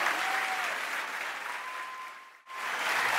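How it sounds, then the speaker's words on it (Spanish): Church congregation clapping in praise of the Lord, a steady wash of applause that dips briefly near the end before resuming, alone without speech. "Dale ese aplauso al Señor."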